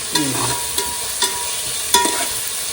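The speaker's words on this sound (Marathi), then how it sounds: "आता आलं लसूण पेस्ट तुपात परतून घेतल्यानंतर पुन्हा एकदा घरचा मसाला मसाला तेलात परतवायचं" Ginger garlic paste fries in ghee on a wood-fired village stove, a steady sizzle broken by four sharp spatula scrapes against the pan.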